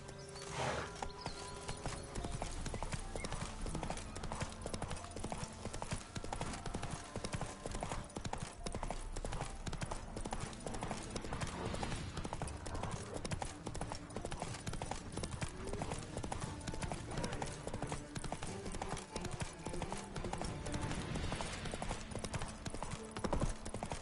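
Horse hooves clip-clop in a steady, rapid galloping rhythm while riding in The Witcher 3 video game, loud and continuous throughout with game music and ambience underneath.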